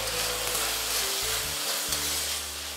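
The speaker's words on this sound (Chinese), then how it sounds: "这个时候我们用中小火给它慢慢翻炒，把它表皮炒至有点焦黄来" Pork skin with rock sugar stir-fried over medium-low heat in a wok, an even hissing sizzle throughout with a low hum underneath, close and steady.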